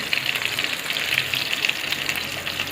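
Asafoetida dropped into hot oil in a pot while making spinach lemon rice gives a steady, close, bright sizzle and crackle of frying that holds evenly throughout with no talking.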